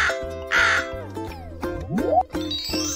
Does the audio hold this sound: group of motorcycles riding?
no